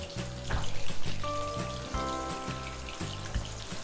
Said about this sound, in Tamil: அந்த சலசலப்பு சத்தெல்லாம் அடங்கணுங்க